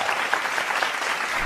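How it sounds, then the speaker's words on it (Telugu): A studio audience claps loudly in a sustained, even burst of applause to welcome a guest onto the stage of a youth entertainment show, dense and continuous throughout. "గట్టిగా చప్పట్లు కొట్టి లెట్స్ వెల్కమ్."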